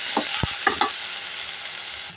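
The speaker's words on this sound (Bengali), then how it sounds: "আমার চিংড়ি মাছটা ভাজা হচ্ছে" Prawns fry in a little oil in a pan, a soft steady sizzle with a few brief stirring scrapes and clinks near the start.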